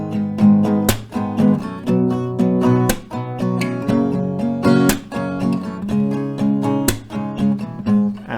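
Acoustic guitar strummed one strumming round per chord, with a steady repeating rhythm of down and up strokes and sharp accents at regular intervals, close and moderately loud with no voices.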